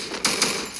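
Gunfire in the video game Free Fire: two quick, sharp shots in close succession, loud against a low background.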